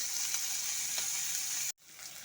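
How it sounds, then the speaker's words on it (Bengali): Onions, garlic and green chillies fry in a pan over medium heat, giving a steady close sizzle that cuts out briefly near the end before resuming. "আঁচটাকে মিডিয়ামে দিয়ে রসুন পেঁয়াজগুলোকে একটু ভাজা ভাজা করে নেব।"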